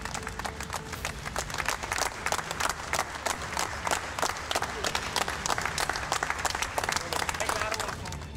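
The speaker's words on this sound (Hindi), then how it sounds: "वहां रहने वाले लोगों ने तालियां बजाकर" Residents of a housing society clap to welcome neighbours returning home after beating coronavirus, a steady crowd applause with dense, continuous clapping and voices mixed in throughout.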